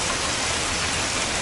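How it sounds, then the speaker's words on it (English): Rain falls steadily on a Boston neighborhood street as a dense, even hiss that holds at a constant level, with no voices. "It's raining here in the neighborhood"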